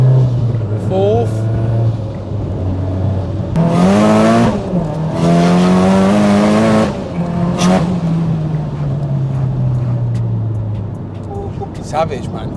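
A 600hp Nissan S15 pulls hard through the gears on boost, its loud engine note rising and dropping with each shift over about twelve seconds, heard from inside with someone talking excitedly over it.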